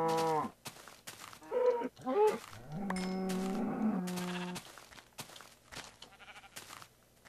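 A cow in the Minecraft video game moos several times, the drawn-out calls standing out clearly among other blocky animal bleats and game sounds, with no talking over them.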